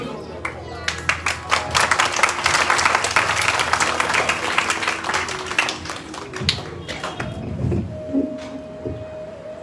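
Audience clapping at a Bhagavat katha, dense and uneven at first and then thinning out, with voices underneath as the applause fades.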